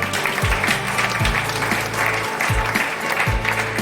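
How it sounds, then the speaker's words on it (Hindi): Enthusiastic applause from an audience honouring a guru at a CJ Store gathering in Goa, dense steady clapping throughout with a rhythmic thudding beat underneath. "हमारे महागुरु रविंद्र जी के लिए तो जोरदार तालियां"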